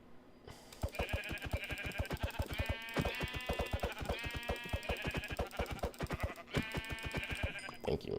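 Cartoonish sheep bleats from a video game repeat in quick bursts over busy game music and sound effects, loud and close throughout.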